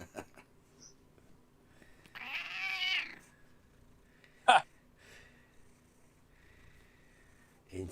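A cat gives a drawn-out meow, followed by a sharp short sound and faint background noise; nobody speaks.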